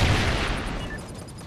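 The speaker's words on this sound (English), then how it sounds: "I'm throwing a nade up top." A grenade blast in Call of Duty Ghosts: one loud burst with a deep boom opens the clip, then slowly fades into a rumbling tail. No voices.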